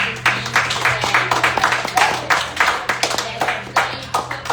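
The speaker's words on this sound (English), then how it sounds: "I really, really want to say applause for these amazing teams today" An audience at a teen truth circle claps for the participating teams in a dense, steady patter of many hands that runs throughout, close and fairly loud, with no clear talk over it.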